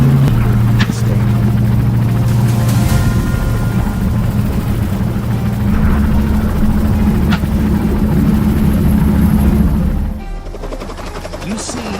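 Helicopter on a wild boar hunt, with steady loud rotor chop and engine drone that hold for about ten seconds before dropping sharply away, plus a few brief sharp bangs.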